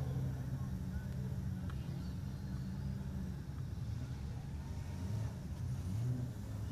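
A VL Commodore production sedan race car drones down the main straightaway at Grafton Speedway at a distance, a low steady roar mixed with crowd and ambient noise, fairly faint.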